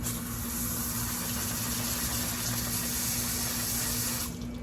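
Steady close spray of water squirted into a Dyson handheld vacuum to rinse it out, a continuous hissing rush with no talk, cutting off just before the end.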